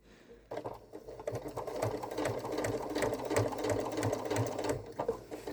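A sewing machine stitches a fabric Halloween bucket in rapid, steady mechanical bursts, close and fairly quiet, starting after a short pause.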